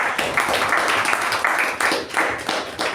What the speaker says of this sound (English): a round of applause to our president